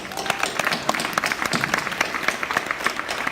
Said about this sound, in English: Give yourself a round of applause, my friend